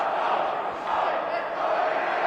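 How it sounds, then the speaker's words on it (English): High school hockey crowd in a rink chanting together, a broad, steady roar of many voices at moderate distance, swelling slightly in waves. "the crowd in Winchester barking something again"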